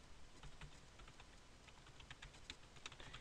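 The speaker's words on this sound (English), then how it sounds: "whoops, I'm typing" Quiet, close typing on a computer keyboard, a quick uneven patter of individual keystrokes with sharper taps clustered toward the end, no talking.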